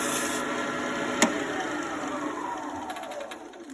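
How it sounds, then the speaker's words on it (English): A wooden pen blank with a Coca-Cola finish is lightly sanded with 320 grit flexible sandpaper, giving a steady close hiss of rubbing with one brief sharp click partway through. "So I'm just going to use a piece of 320 grit flexible."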